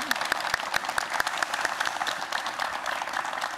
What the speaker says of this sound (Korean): 여러분 박수로 좀 예